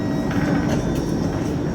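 A local train stands at a station platform in Germany, giving a loud, steady rumble and hiss of rail noise with no clear breaks.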